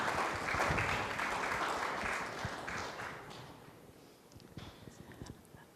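Audience applause at a community safety meeting, a dense crowd clapping loudly at first, then thinning and fading into scattered claps toward the end.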